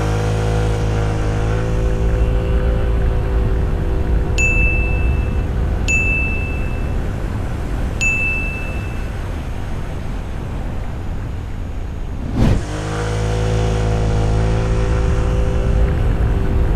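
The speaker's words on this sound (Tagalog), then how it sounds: "Ito, para magkaroon kayo ng idea, tinest natin yung acceleration eh." Suzuki Burgman 150 scooter accelerating in a speed test, a steady engine drone that builds continuously, with three short high electronic beeps partway through and a brief knock near the end.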